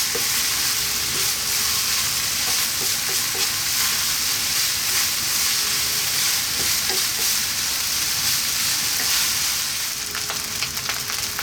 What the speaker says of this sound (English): That's the rice frying.